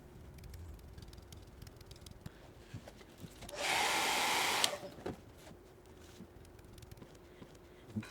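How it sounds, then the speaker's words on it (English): A hair dryer blows on freshly applied stencil paint for about a second, a steady rushing whoosh rising sharply over a quiet room and then cutting off. "I'm having to blow dry after every step"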